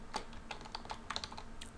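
Quiet typing on a computer keyboard while working in Excel, a quick irregular run of light key clicks, close and alone.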